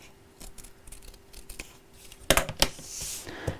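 Scissors snip through fabric at a sewing club session, giving a few quiet cuts early on and then a brisker run of close, sharp snips near the end, heard alone without talk.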